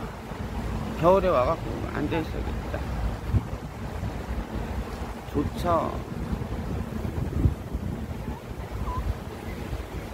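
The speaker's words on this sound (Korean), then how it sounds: "바다 소리 파도 소리 비슷한" Water along the Han River lapping like gentle sea waves, a steady low wash with wind rumble on the microphone, under someone talking and a dog yapping briefly.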